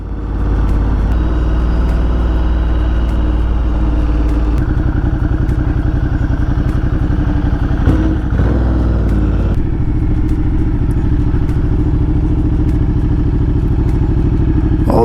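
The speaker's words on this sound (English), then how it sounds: "jumped on the bike to head to Portland, Maine" Continuous loud motorcycle engine and wind roar during a road ride toward Portland, Maine, steady throughout with a slight change in engine tone partway through.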